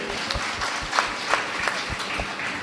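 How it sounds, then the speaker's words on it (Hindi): An audience at an open public political debate claps in a regular rhythm, evenly spaced beats over a constant crowd murmur, fairly loud and close. "एक बार जोर से ताली बजनी चाहिए।"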